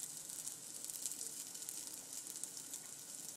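Grain-free tortilla batter sizzles in plenty of smoking butter on a griddle: a soft, continuous crackling sizzle, faint and even throughout, with no voices.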